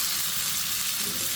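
Bitter gourd (karela) frying in oil, a close, loud and steady sizzle with constant crackle throughout the short moment.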